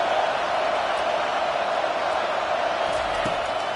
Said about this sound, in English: And how nice is it to have the home crowd going absolutely bananas?